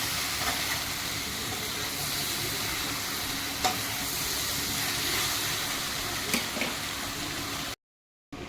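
Chili soya chunks are stirred through sauce and spices in a hot pan, giving a continuous sizzling hiss with occasional scraping knocks of the spoon, close and steady, before a brief drop to silence near the end.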